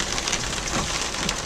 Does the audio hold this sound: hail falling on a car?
yes